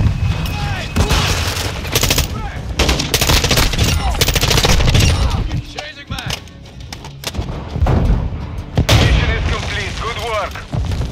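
Dense rapid gunfire with heavy booming explosions in Call of Duty Modern Warfare 2 multiplayer on a forest map, loud and continuous with bursts and short lulls, voices shouting over the battle.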